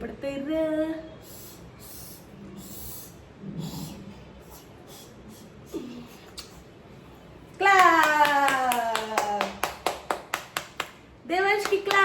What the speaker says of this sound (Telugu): దేవాంష్కి క్లాప్